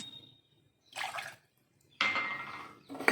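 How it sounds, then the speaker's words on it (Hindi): Two cups of water poured from a vessel into a pan on a gas stove while making a home cough and cold remedy, heard as two close, splashy pouring bursts separated by a quiet pause. "इसमें 2 कप पानी के डाल दीजिए"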